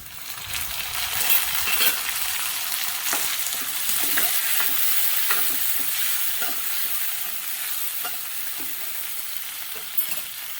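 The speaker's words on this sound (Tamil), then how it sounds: "பூண்டு போட்டுட்டு ஒரு 2 நிமிஷம் நல்லா வதக்கிக்கலாம்." Garlic and tomatoes sauté in hot oil in a pan for a dried-fish curry, giving a loud, continuous sizzle with scattered clicks and scrapes of stirring throughout, with no talking.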